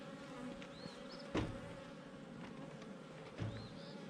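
Honey bees crawl over a frame of brood from a hive being split into nucs, a soft, steady buzzing hum close by, with a couple of brief louder bumps standing out.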